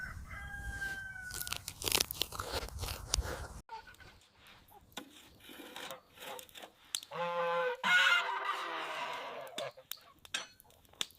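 A goose eating bread honks and gabbles nearby amid crunchy pecking and rustling, with bird calls rising and falling over a busy outdoor background.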